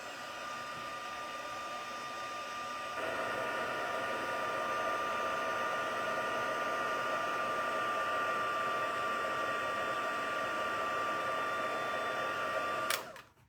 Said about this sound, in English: I'm just going to turn the heat gun on again.